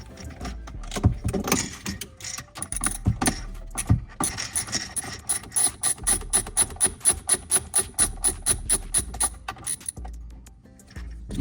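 Ratcheting clicks from a hand tool working loose a hard-to-reach screw on a kitchen garbage disposer, a rapid steady run of close, sharp clicks with brief pauses and handling knocks.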